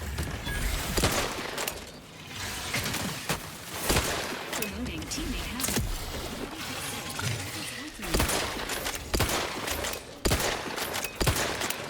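Rapid bursts of gunfire in The Outer Worlds 2, loud and close, with dense overlapping shots and sharp impacts recurring across the whole stretch amid busy combat noise.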